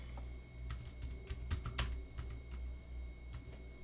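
Keys clatter on a computer keyboard as text is typed into laser-engraving software, a quick close run of uneven taps over a faint steady hum.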